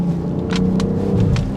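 A 2021 Land Rover Defender accelerating under moderate throttle on the highway, a close, steady low engine drone and rumble heard from inside the cabin, brief and without speech.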